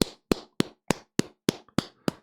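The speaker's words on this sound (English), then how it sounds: "I'll clap." Hands clap eight times in a steady, even rhythm about a third of a second apart, each clap sharp and close, with near silence between them on a live radio show.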